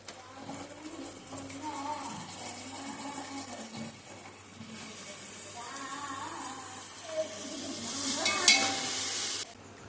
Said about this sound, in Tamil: வெங்காயம் நல்லா வதங்கிடுச்சு. இப்போ வந்து அரைச்சி வச்ச இஞ்சி பூண்டு பேஸ்ட் சேர்த்துக்கலாம்.